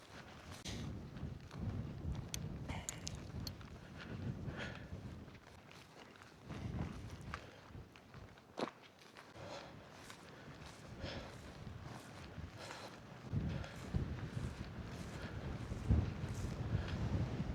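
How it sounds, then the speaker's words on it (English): Strong gusting wind buffets the microphone on the summit of Pen Allt Uchaf, a Welsh mountain ridge, a continuous roaring rumble with irregular thumps and surges throughout. "It's very windy up here"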